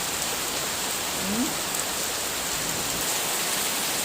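Heavy rain falls with a light wind in a steady, dense hiss that fills the whole stretch without a break.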